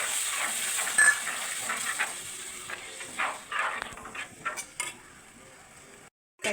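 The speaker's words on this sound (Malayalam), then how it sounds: "ഇനി പുളി വെള്ളം അതിനകത്ത് ഒഴിക്കുക" Tamarind water poured into a hot pan of fried coconut for a Kerala tuna curry, giving a steady sizzling hiss that fades and breaks into softer bubbling spatters before a short pause.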